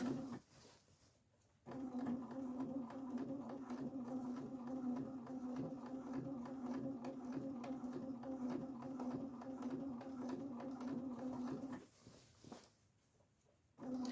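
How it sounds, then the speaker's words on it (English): Sewing machine stitching along the edge of a fabric sink or cabinet skirt at a 3 stitch length, a steady mechanical hum running continuously for about ten seconds between quieter pauses at the start and end. "I'm just stitching that right along the edge just to secure it in place"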